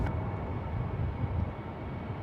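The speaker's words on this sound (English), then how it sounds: "Here goes JetBlue 416 out to JFK" A JetBlue Airbus A321 takes off from runway 28 left at San Francisco International Airport, a steady broad roar that holds constant at moderate distance, with no voices.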